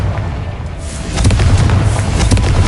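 An explosive Confringo spell goes off in Hogwarts Legacy, a loud, close blast with a deep rumbling boom that swells and sustains for a couple of seconds.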